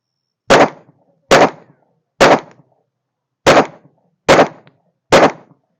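Six sharp Glock 19 pistol shots crack one at a time at uneven intervals, each loud and close, with brief echoes and silence between them.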